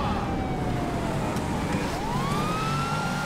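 A police car siren in the GTA V video game wails steadily with rising and falling sweeps over dense background game noise and engine rumble, continuous throughout.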